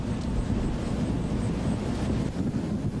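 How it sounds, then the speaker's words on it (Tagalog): Strong typhoon wind from Typhoon Glenda in Camarines Norte roars and buffets the microphone continuously, a dense low rumble without pauses or voices. "sa lakas ng hangin na humahampas dito sa Camarines Norte"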